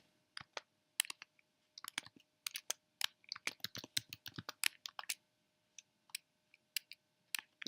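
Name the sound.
typing a password on a computer keyboard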